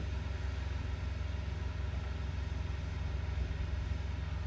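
Truck engines idle in a low, steady rumble while trucks are loaded nearby, a continuous mid-distance drone with no talk over it.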